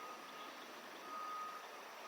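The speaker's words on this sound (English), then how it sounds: "I can hear the backing up, beeping noise" A vehicle's reversing alarm beeps steadily in the distance over a broad wash of background noise, with no talking.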